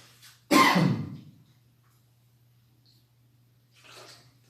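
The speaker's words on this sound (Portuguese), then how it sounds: "me perdoem a tosse" A single loud cough bursts out near the mic, followed by quiet, with a faint breath or rustle a few seconds later over a low steady hum.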